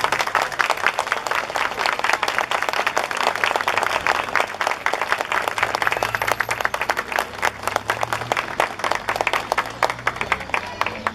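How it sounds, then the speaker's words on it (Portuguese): Sustained applause from a school audience honoring a student who recently died, dense steady clapping filling the whole stretch at full strength with no talk over it. "eu queria pedir fortes palmas para o estudante Leonardo"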